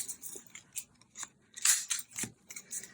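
Scissors snip through material while a steampunk craft piece is being assembled, making a run of sharp close clicks and cuts, with a louder cluster of snips partway through and no talking.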